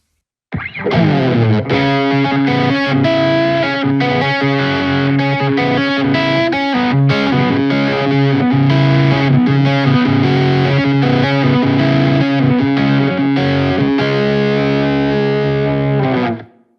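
A distorted electric guitar through a Kernom Ridge overdrive pedal plays a sustained run of chords and notes, thick and saturated, loud and steady for the whole stretch with no talking.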